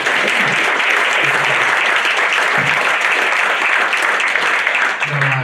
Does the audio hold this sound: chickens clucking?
no